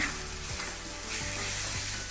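Tomato masala with a handful of cashews frying in a pan for butter chicken, a soft steady sizzle with a few quiet stirring scrapes, no voices.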